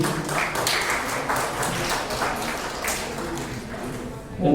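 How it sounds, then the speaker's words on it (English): An audience at a school English declamation contest applauds, giving a steady, moderately loud wash of clapping that continues for several seconds before stopping. "Give a big round of applause"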